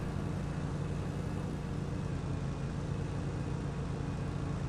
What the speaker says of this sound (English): It's got a good sound to it. It sounds like a lawnmower.